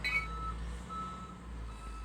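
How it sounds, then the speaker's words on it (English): A rubbish truck reverses somewhere outside, its warning beeps repeating faintly in the background over a steady low engine rumble. "Rubbish truck in the background if you can hear that"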